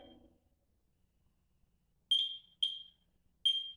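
A beeper device gives three sharp, high electronic beeps, each with a short decaying tail, spaced unevenly after a quiet stretch in a building basement; a brief low rustle opens the clip.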